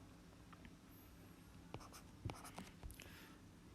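Handwriting while working through a geometry problem on parallel lines, a quiet close run of scratchy pen strokes and taps over a steady low hum, with no voice.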